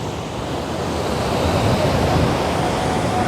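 Steady, dense roar of rushing water fills the scene without a break, heard from close by at Kozhippara waterfall, Kakkadampoyil, Kerala, with no voices.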